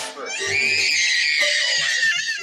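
A young boy screams loudly and continuously at high pitch, sustained for about two seconds close to the listener, with a brief lower vocal sound underneath at the start.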